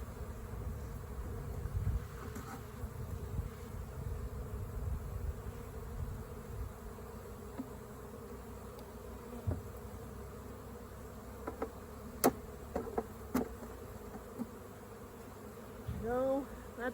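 Honey bees hum steadily around a hive where a weak nuc sits above a strong colony, a soft continuous drone of insects close by, with a few brief clicks and handling sounds near the end.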